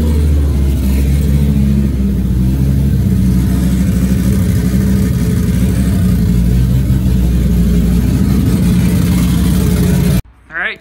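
A Volvo 850 T-5R converted to AWD, raised on a lift for a wheel spin test, revs steadily for about ten seconds with a loud, close, continuous engine drone before cutting off abruptly.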